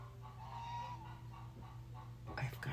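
A hen cackles loudly after laying an egg, heard from indoors through a window over a steady low background hum, with a sharper burst of clucks near the end.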